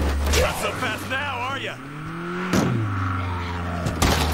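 Engine of a car being driven in State of Decay 2, a steady low drone whose pitch climbs and shifts as it accelerates, running loud under continuous talk for the whole stretch.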